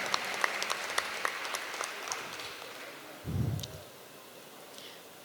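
Sparse, light clapping from an audience at a talk, thin individual hand claps pattering quietly and unevenly before tapering off, with a brief low rumble midway.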